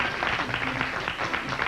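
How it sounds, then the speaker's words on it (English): Steady applause from a studio crowd on a call-in television broadcast, a moderately loud, continuous clatter of many hands with a faint murmur underneath. "let's hear a round of applause for that"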